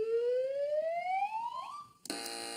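On the quiz show Have I Got News For You, a rising electronic tone sweeps upward for about two seconds, then a buzzer sounds abruptly with a harsh, steady, buzzy tone.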